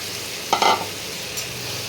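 Fried cauliflower and potato pieces drop into hot spiced oil, a brief louder burst of sizzling and clatter over a steady close frying hiss, with a small second clink shortly after.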